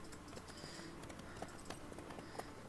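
Faint rhythmic horse hoofbeats clip-clop steadily over a busy background of ambient game noise in The Witcher 3: Wild Hunt.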